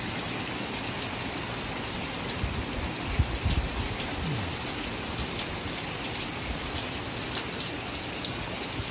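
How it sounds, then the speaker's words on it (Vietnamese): Steady rain falls after Hurricane Hilary in Little Saigon, Orange County, California, a constant loud hiss of drops on surfaces with a few low thumps midway and no talk. "mưa, trời mưa đấy"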